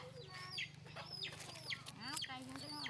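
Chickens cluck close by in quick, uneven calls over a low steady hum, with a faint voice in the background.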